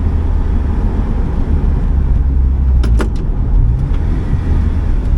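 An Opel Speedster drives with a loud, hard engine drone and road roar held close and steady throughout, with a brief cluster of sharp ticks near the middle and no voices.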